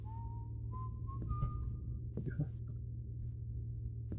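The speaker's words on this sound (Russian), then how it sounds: "Тихо. Кто свистит?" Someone whistles in the stealth video game Thief: The Dark Project, a thin, faint tune of a few steadily rising notes over a low background hum, with a few soft clicks and no talking.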